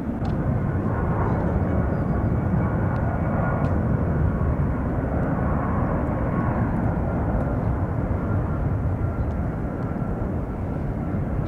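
A United Airlines jet takes off from runway 1 left at San Francisco International Airport, producing a loud, steady broadband roar that holds for the whole stretch without fading.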